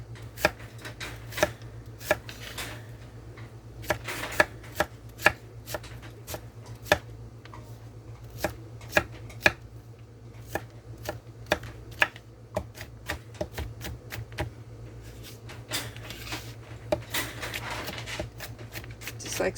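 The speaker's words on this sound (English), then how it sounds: "I'm just wanting to mince this up" A knife mincing food on a cutting board makes sharp, irregular taps, sometimes spaced and sometimes in quick bursts, close and fairly faint, over a low steady hum.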